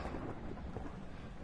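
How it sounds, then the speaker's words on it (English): Steady rain and rolling thunder from outside a haunted house in the ghost-hunting video game Phasmophobia form a continuous, dense low rumble with a constant hiss of rainfall, with no voices. "And it's raining and thundering outside."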